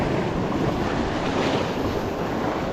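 Heavy swell surges as white water washes over shoreline rocks at Batemans Bay, a continuous roaring wash with wind buffeting the microphone.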